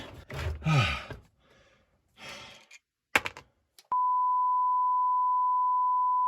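A steady, loud censor bleep cuts in abruptly after some rustling and a short clatter, then holds unbroken for over two seconds.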